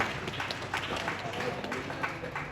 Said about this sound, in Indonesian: Beri tepuk tangan kepada seluruh tim.